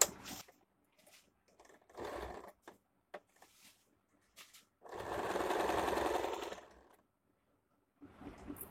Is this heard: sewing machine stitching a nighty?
yes